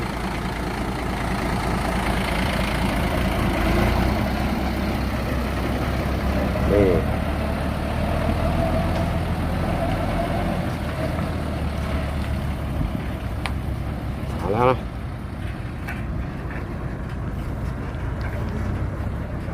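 A Hino Victor diesel engine rated at 314 horsepower idles steadily inside a SANY SY200C excavator at the rocky edge of a reservoir. The low, even rumble continues throughout, with occasional brief squeaks and someone speaking over it.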